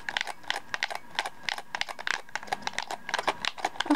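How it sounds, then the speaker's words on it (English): Buttons on a returned gaming controller are clicked rapidly and repeatedly, producing crisp, close plastic clicks in an uneven rhythm with no talking. "Click it a couple times."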